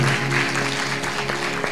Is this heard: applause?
yes